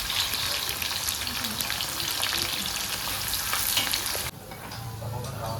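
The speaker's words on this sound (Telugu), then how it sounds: "ఉల్లిగడ్డలు వేసుకుంటున్నాను. బాగా ఫ్రై కావాలి" Sliced onions sizzle loudly in hot oil in a kadai for chicken biryani, a dense continuous frying hiss with stirring, dropping abruptly quieter near the end.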